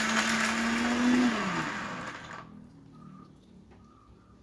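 A kitchen mixer grinder whirs loudly as it grinds coconut and banana chips, a steady motor whine that winds down and stops after about two seconds, leaving quiet room sound.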